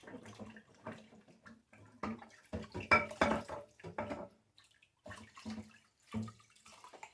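Dishes being washed by hand in a sink of water with cleaning solution, no bubbles: intermittent splashing, clinks and swishes close by, in short bursts separated by brief pauses.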